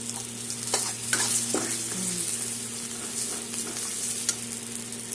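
Ginger sizzles softly in a pan with cumin powder and sugar while a spatula stirs and clinks against the metal. The frying is quiet and close.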